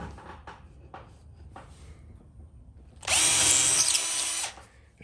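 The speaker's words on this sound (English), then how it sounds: "Now I take my 10 thousandths over. And I ream these holes out." Holes in cleaver knife blades being reamed out: a few soft knocks and handling sounds, then a loud, close, steady whirring power-tool run lasting about a second and a half before stopping.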